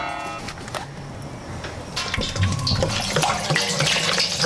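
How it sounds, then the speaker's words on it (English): Water poured from a container into a beer brewing pot for a 5-gallon IPA batch, a steady splashing gush that grows fuller and louder as it fills, close by and heard alone. "I'm gonna be pouring in 3 gallons now"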